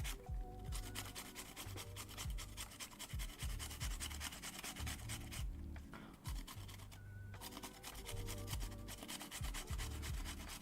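Rough, repetitive rasping of a small hand grater working material for a keyboard build, steady and close with brief pauses, no talking.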